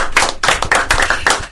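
A round of applause at a live brewing competition event, a short burst of hand claps, close and fairly loud, lasting about a second and a half with no voices over it.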